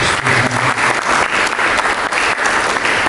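A church congregation claps together during a sermon, a loud, dense burst of applause that stays even for a few seconds.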